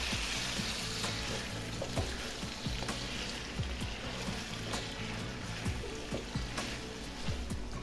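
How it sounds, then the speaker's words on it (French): Carrots and chorizo fry in a pan for paella, a steady close sizzle broken by frequent scraping stir strokes throughout. "Je laisse cuire le tout pendant 5 minutes tout en remuant assez souvent."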